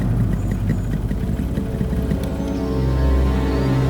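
A motorbike engine idles with a low, steady rumble after the bike comes to a stop on a road in a Hindi TV crime drama, close and continuous with no talk.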